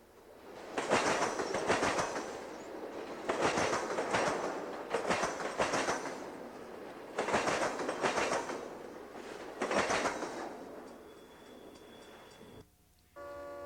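A Conrail freight train passes along a Mississippi River line with repeated loud bursts of rumbling wheel clatter as cars roll by, fading and returning in waves before a brief quieter tail.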